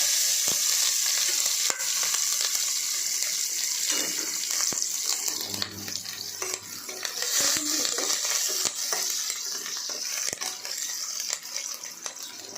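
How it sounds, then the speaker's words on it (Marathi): Mustard seeds, cumin and chillies sizzle loudly in hot oil. A dense, hissing crackle runs throughout, with sharp pops and a few clinks of a spoon, close and with no voices. "लगेच आपल्याला एक चमचा मोहरी टाकायची अर्धा चमचे जिरे मिरच्या"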